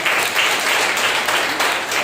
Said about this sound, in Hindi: ताली बजा सकते